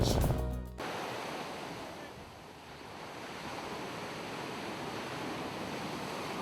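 Ocean waves breaking at a North Shore beach, a continuous even roar of surf with gentle swells in level, mixed with light wind noise after a brief opening sound.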